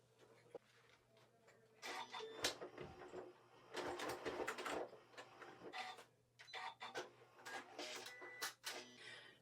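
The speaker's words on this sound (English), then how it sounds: "It's just a straight stitch to as long as it goes on my machine, and I'm going to sew directly across that." A sewing machine runs a long straight stitch across layered fabric for a rug, giving several faint, close bursts of quick mechanical chatter with short pauses between them.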